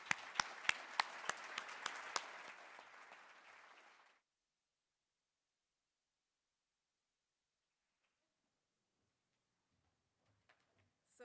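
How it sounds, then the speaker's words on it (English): Audience applause at a lecture event in a hall, a burst of loud clapping that fades out after about four seconds, followed by near silence with faint stirring at the end. "Let's give them a round of applause."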